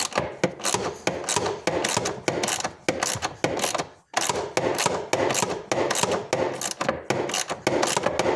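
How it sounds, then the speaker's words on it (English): A ratchet thumb wheel spun by hand to back out loose 8mm bolts on a Land Rover LR2/Freelander 2 3.2L engine, a rapid, close clicking in steady bursts with one short pause partway through. "And then I'll hit them with my thumb wheel."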